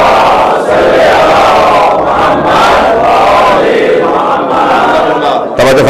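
A large crowd at a Muharram majlis gathering loudly recites salawat in unison, a dense, sustained roar of many voices that stays loud throughout before breaking off near the end.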